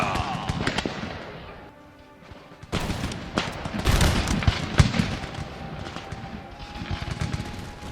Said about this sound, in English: Nice though that they're firing by rank.